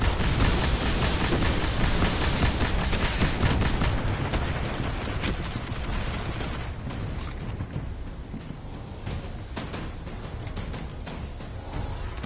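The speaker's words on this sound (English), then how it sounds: "Maybe try the machine gun, see what it works, together with our heavy weapon ammunition." Sustained machine gun fire in the sci-fi shooter Destiny, a dense, loud roar of rapid shots running continuously and slowly easing off, with scattered sharper bangs layered in.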